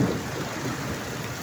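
Heavy rain pours down near Villupuram, a continuous dense wash of noise with a low rumbling undertone, steady and enveloping, with no speech.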